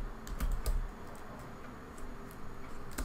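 Quick, light tapping on a computer keyboard while coding, a steady run of soft clicks close by at low level, with no talk.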